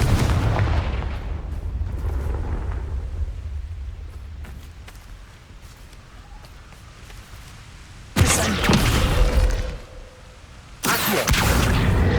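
The Confringo fire spell in Hogwarts Legacy, a deep booming blast followed by two sudden loud bursts of fiery crackle, close and alone.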